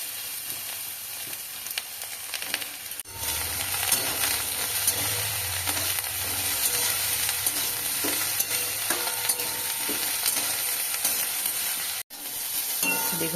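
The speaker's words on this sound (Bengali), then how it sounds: "আরও একটু তেল দিয়ে কড়াতে বেগুনগুলো" Eggplant pieces dropped into extra oil in a wok fry with a loud, steady sizzle that swells after a few seconds and holds, with occasional stirring scrapes and a brief cutoff near the end.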